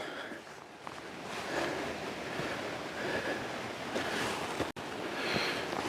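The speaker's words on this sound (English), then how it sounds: "Got the rushing water you can hear in your left ear." A stream rushes along in the Exmoor countryside near Roadwater, a steady broadband wash of flowing water with gentle surges, heard close by and without speech.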